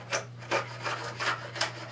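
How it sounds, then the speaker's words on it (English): Carbide hand plane shaving across white oak, producing four or five rhythmic rasping strokes, close and clear over a low steady hum. "This carbide hand plane is doing a beautiful job. And this is on white oak"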